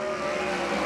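USAC 410 sprint cars roar at full throttle on a green-flag restart at Arizona Speedway, a dense, continuous engine drone filling the whole moment.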